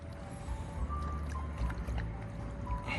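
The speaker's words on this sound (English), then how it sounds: "Stop drinking the water." A dog laps water in quick, irregular wet splashes and trickles, close by and fairly quiet, with no talking.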